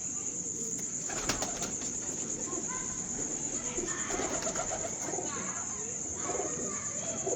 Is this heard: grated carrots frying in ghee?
no